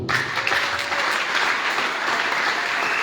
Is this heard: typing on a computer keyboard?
no